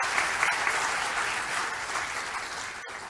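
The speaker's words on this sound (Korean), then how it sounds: "큰 환영과 격려의 박수 한번" Audience applause of welcome and encouragement at a Korean political party gathering, a steady dense wash of many hands clapping from start to finish, fairly distant and even in level with no voices above it.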